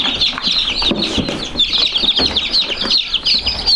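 Barred Rock chickens cluck and chirp busily up close, a dense overlapping chorus of high calls with some rustling and wing flaps and no talk.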